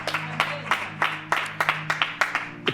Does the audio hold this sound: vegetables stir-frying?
no